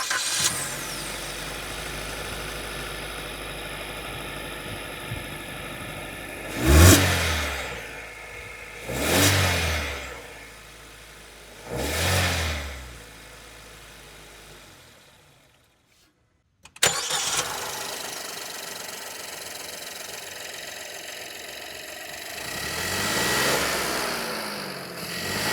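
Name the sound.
car engine revving and idling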